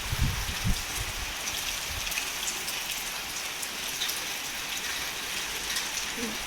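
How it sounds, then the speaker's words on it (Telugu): Heavy rain pours down on a building, a dense, continuous hiss of drops striking surfaces at steady loudness, with a few brief knocks at the start. "వర్షం అయితే ఫుల్ పడుతుంది."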